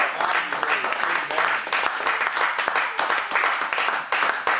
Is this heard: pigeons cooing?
no